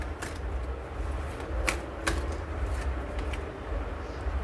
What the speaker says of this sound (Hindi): आप लोगों के लिए मैं कार्ड शफल कर रही हूँ